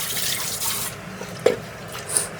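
Clean water pours and splashes over fish being washed in a Konkan home kitchen, a steady close running-water rush with a couple of sharper splashes.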